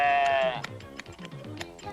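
A sheep bleats loudly in a long, wavering cry at the start of shearing, then smaller bleats and scattered clicks and knocks follow, close by.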